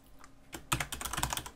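A file name being typed on a computer keyboard: after a brief pause, a quick, close run of light key clicks follows in an uneven rhythm, with no talking.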